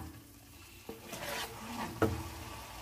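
Whipped yogurt being stirred into masala for kofta curry over a medium flame, a soft wet scraping and sloshing with a couple of sharper knocks of the spoon against the pan, close and alone.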